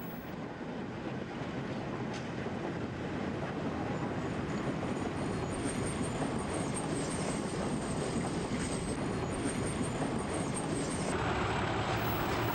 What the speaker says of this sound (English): And propel the train out onto the main line.